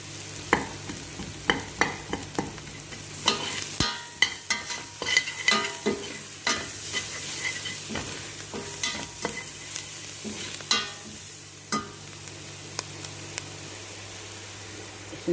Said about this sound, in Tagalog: I-mix lang natin guys ha.